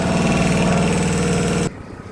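A motorcycle engine runs with a steady, pulsing mid-pitched hum up close, then drops suddenly to a much quieter background.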